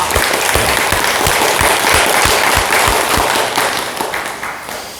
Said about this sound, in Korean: 이 질문해 주신 우리 천왕님께 큰 박수 부탁드립니다